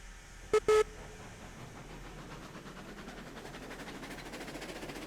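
A small steam locomotive runs in the train video game Railroads Online, giving a steady low rumble with faint rhythmic chuffing that builds slightly near the end, after two brief bright whistle-like tones early on.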